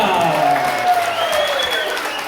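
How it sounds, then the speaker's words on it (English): Audience applause at a full stage hypnosis show at Slippery Rock Campground, a loud burst of crowd clapping that holds briefly and fades slightly, with voices underneath. "How about a big round of applause for Cha-Cha?"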